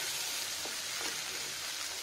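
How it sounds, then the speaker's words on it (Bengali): Green peas stirred nonstop in a hot pan for a kachori filling give a steady, close sizzle with a couple of soft spatula scrapes, and no voices. "এবার এই মটরশুঁটিটা যতক্ষণ পর্যন্ত কাঁচা গন্ধ না যাবে ততক্ষণ পর্যন্ত এটা সমানে নেড়ে যেতে হবে"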